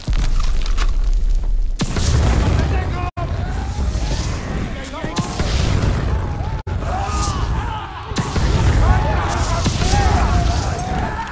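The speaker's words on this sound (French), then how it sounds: "Je lance une grenade!" Grenades and explosions boom repeatedly during the Normandy landing in the Call of Duty WW2 video game, several loud bursts a few seconds apart over battle noise and shouting.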